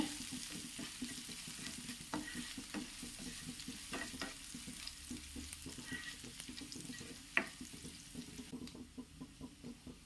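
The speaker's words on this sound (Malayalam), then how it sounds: "വെളുത്തുള്ളി ഒന്ന് മൂപ്പിച്ചെടുക്കണേ" Garlic sizzles and fries in a pan with steady crackling and occasional stirring scrapes, close and moderately loud, with no voices over it.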